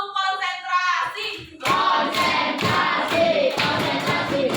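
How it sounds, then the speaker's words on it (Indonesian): After a voice calls out, a classroom of students performs a concentration clapping routine: a sequence of sharp, patterned group claps mixed with chanting voices, close and fairly loud. "Tepuk konsentrasi."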